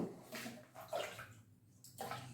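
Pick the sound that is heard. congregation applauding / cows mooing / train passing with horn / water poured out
water poured out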